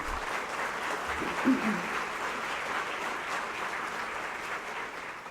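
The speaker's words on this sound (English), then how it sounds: "So please let's give a round of applause to start the morning." A crowd claps in steady, sustained applause at a healthcare awards event, heard from a moderate distance at fairly low volume.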